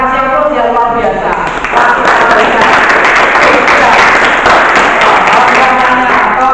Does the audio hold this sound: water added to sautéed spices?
no